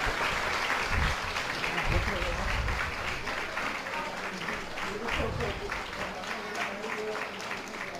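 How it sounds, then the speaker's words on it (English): Audience applause fills a children's talent-day performance at an ISKCON culture camp, steady, dense clapping held for about eight seconds at a moderate distance, with faint voices mixed in underneath. "I think we can give him a big round of applause."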